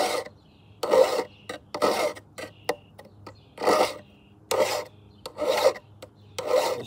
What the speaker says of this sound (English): Okay, so we're gonna sharpen this.